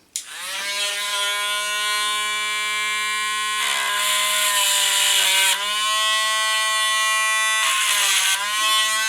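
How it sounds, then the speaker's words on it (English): A slow speed Dremel rotary tool grinds on a metal part of an 1863 pocket revolver, a steady high whine with brief harsher bursts as the bit bites into the metal, close and loud throughout. "I'm going to do that with my little slow speed Dremel tool"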